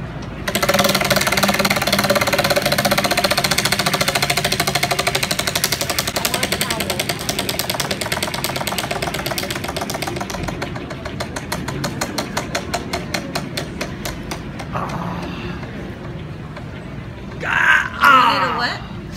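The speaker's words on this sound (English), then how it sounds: "gonna spin the wheel for a free O'Neal" A prize wheel at a busy convention booth spins with rapid clicks that slow down as it coasts to a stop, under steady crowd noise and nearby talking.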